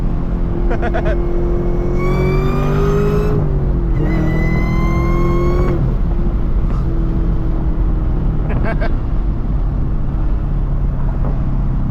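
A manual Camaro ZL1 with a supercharger revs in two strong bursts, each rising then dropping, with a couple of shorter blips after; nearby and loud against steady road noise, with occasional voices.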